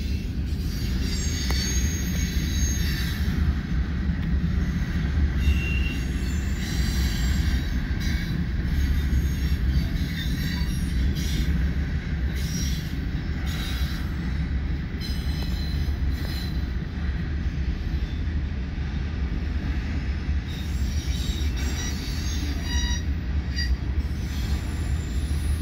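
A freight train rolls past steadily and loudly at close range in Fremont, Nebraska, its wheels squealing high and persistently over a constant low rumble.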